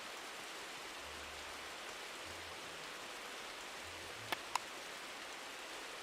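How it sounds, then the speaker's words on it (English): Steady rain in the online sailing game Uncharted Waters Online, a soft, even hiss of falling drops with no talk, broken only by two brief clicks near the end. "The rain is kind of loud."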